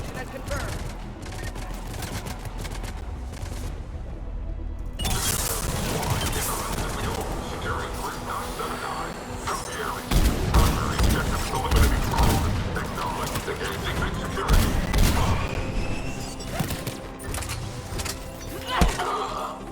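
Rapid bursts of gunfire in the video game Mass Effect, sustained loud volleys with crashes and impacts filling the whole stretch, mixed with game voices.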